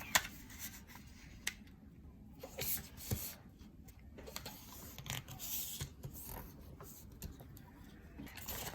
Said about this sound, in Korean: 그다음에 이 옆으로 삼각형을 접어주세요